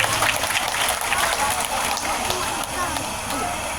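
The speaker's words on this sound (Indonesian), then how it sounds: "Tepuk tangan buat anak-anak ini." A school audience applauds for the children, dense clapping close and loud with sharp individual claps popping through, voices and crowd murmur mixed in beneath.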